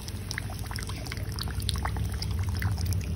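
Hot water pours steadily into a pot while cooking Kelantan chicken kuzi, in a continuous splashing stream, close and fairly even in level, with no talking.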